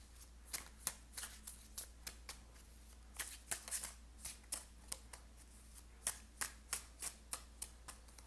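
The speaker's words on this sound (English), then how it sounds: "I'm going to get 2 more cards from this deck." Tarot cards being shuffled and drawn from a deck, crisp close riffles and snaps repeating in an irregular rhythm over several seconds in a quiet room with no talking.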